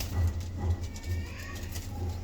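Pigeons in a breeding setup with small chicks give a steady run of low, throaty coos, repeating in soft pulses close by, with no talking.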